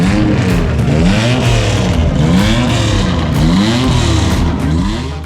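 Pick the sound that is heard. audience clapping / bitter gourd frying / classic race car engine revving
classic race car engine revving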